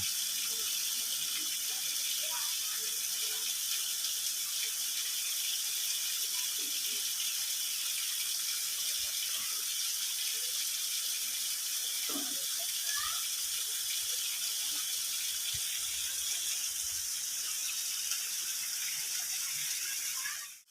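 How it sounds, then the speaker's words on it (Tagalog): Steady broadband rush of a waterfall pouring into a fish pond at Little Baguio botanical garden, continuous and even throughout, with faint scattered background sounds. "Parang ang sarap lang pagmasdan itong falls na to"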